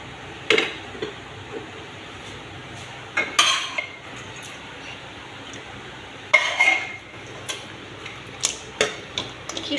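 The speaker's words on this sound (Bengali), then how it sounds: "মাংস সেদ্ধ হয়ে গেছে, এবার একটা কড়াইতে ঢেলে দেব।" Boiled goat meat is tipped from a cooker into a metal wok, giving sparse, sharp clanks and scrapes of metal utensils against the pan over a quiet kitchen background.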